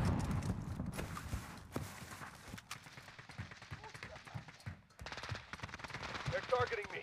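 Rapid gunfire bursts crackle in a first-person shooter video game, with scattered shots and footstep-like clatter. A player's voice talks over the action throughout.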